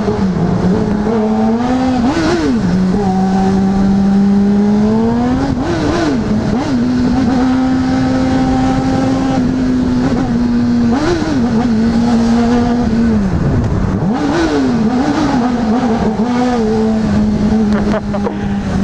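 A Honda CBR600RR sport motorcycle is ridden through traffic, its engine loud and close. Sustained high revving rises and dips through repeated throttle blips and gear changes, with steady wind noise over the whole ride.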